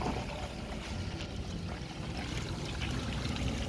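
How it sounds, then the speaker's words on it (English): Low, steady rushing of water flowing through pipes, continuous and fairly faint with no voices. "can you hear the water flowing?"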